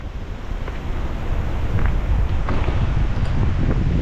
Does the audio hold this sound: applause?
no